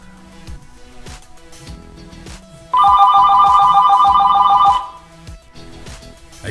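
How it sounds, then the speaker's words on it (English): A Uniden XDECT digital cordless phone rings with a loud, close electronic trilling tone lasting about two seconds over quiet background chatter and clicks. "And it'll also ring on your Uniden phone."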